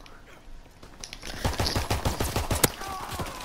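Luger P08 pistol gunfire in the World War II shooter Call of Duty WWII: a fast string of sharp, close shots starting after a quiet second, with one louder crack near the end.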